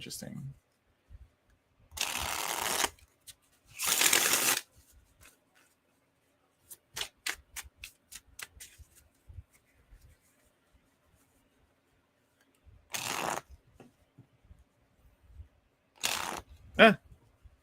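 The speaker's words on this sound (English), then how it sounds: "the cards are kind of telling me to stop shuffling" Tarot cards are shuffled in a few separate bursts of crisp riffling, close and fairly loud, separated by quiet pauses and light handling taps.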